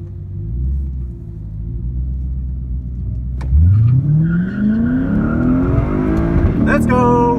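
Lexus IS F and Cadillac ATS-V launching in a drag race at a drag strip, a deep idling rumble giving way to loud, rising engine revs as the cars accelerate hard, with people talking and shouting over it.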